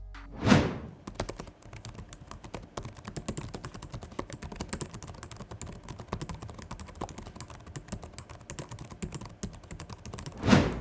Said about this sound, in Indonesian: berikut ini deh, ada contoh suara feedback dari keyboardnya